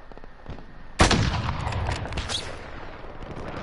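Gunfire in Call of Duty Warzone: a sudden loud blast of shots erupts after a quieter stretch, followed by a rattling burst of automatic fire that fades into lingering rumble.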